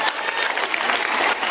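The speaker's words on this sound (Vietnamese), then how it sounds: "Giờ cho chị một tràng pháo tay để chị bớt rung được không ta?" Students at Bình Thạnh secondary school giving a round of applause, a continuous dense burst of many hands clapping, fairly loud and steady with no talk over it.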